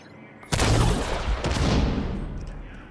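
A heavy mortar blast from the video game The Division 2 booms loudly, then a second explosion follows about a second later, both trailing into a long rumbling decay.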